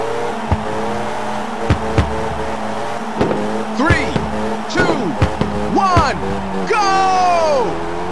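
Race car engines in the video game Ridge Racer 2 hum steadily and rise in pitch as they accelerate, with several short tire squeals and swooping pitch slides near the end. The sound is loud and close.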